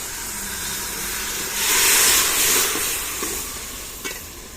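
Water hits a hot pan of fried onions and red chili, bursting into a loud hissing sizzle midway that gradually settles back to a softer fry, with a couple of light stirring clinks near the end.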